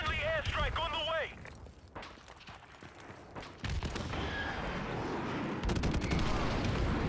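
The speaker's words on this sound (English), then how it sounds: "Friendly airstrike on the way." Friendly airstrike in Modern Warfare Remastered multiplayer: gunfire gives way to a dense, roaring barrage of explosions that builds and holds loud to the end, with game voices heard early on.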